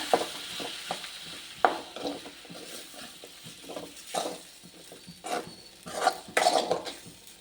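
Sago is stirred in a pan over a low flame, giving soft scraping strokes and intermittent spoon clinks against the metal, quiet between bursts, with a faint sizzle beneath.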